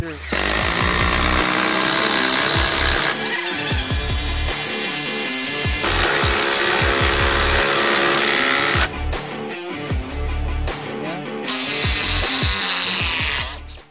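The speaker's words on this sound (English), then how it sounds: "we have the new Hart brushless impact driver, an 8-inch lag bolt." Hart brushless impact driver driving an 8-inch lag bolt, a loud, continuous hammering rattle in several long bursts with short pauses between them.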